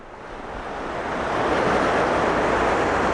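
The San Pablo river rushes in a broad, loud roar, the water noise swelling over the first second and a half and then holding steady, no voices.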